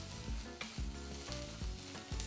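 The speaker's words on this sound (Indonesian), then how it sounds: "Langsung saja dengan minyak kelapa kita goreng bawang bombaynya." Onion sizzles steadily in hot coconut oil, with garlic added to the pan, while a utensil stirs and scrapes every half second or so; the frying is close, with no voices.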